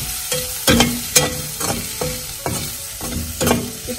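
Ivy gourd fries with chili powder in a pan, giving a close, steady sizzle broken by rhythmic scraping strokes of a spatula as it is stirred.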